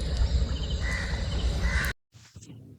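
Crows caw near the backwaters, hoarse calls rising over a dense, loud outdoor wash that cuts off abruptly, leaving a brief quieter stretch with faint sounds.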